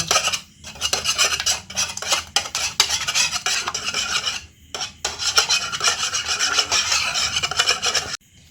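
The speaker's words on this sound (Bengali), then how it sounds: "এবার ভালো করে ডিমটা আমি ফেটিয়ে নেব" Eggs seasoned with salt and pepper are beaten hard in a bowl for a Kolkata-style chicken cutlet, a loud, close, steady whisking rasp with a couple of brief pauses and no talk.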